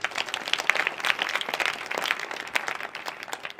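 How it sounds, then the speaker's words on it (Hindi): An audience claps together at a village night-time devotional gathering. The dense, fairly soft applause runs evenly for a few seconds. "आप सबके लिए जोरदार तालियां"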